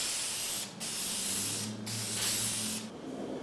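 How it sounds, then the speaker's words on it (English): A spray paint can hisses in three steady bursts, each lasting about a second, separated by short pauses, while a steel tanker desk is being refinished, with a faint low hum underneath. "Start spraying off the work, stop spraying off the work."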